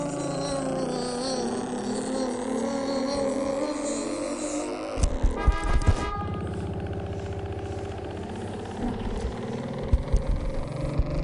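A car engine runs steadily, then revs hard in rough bursts as the car pulls away, with a couple of louder surges near the end.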